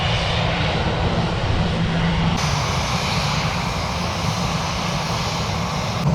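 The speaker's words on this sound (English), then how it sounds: "there's a EasyJet plane over here" An EasyJet jet airliner at Manchester Airport drones steadily and loudly with a broad, continuous engine roar that holds constant throughout, with no talk over it.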